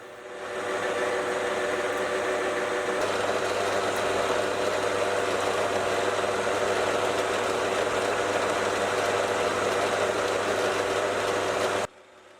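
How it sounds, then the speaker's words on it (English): A lathe runs at reduced speed while turning a part in a brass bushing, giving a steady mechanical hum and whir that holds constant for about eleven seconds before cutting off abruptly. "I do need to run the lathe a bit slower than I normally would."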